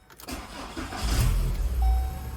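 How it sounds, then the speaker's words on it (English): A 1999 VW Golf Mk3 2.0 petrol engine cranks briefly and catches, settling into a loud, close rumbling idle with a faint whine, heard alone without talk. "technically I should be able to start the car"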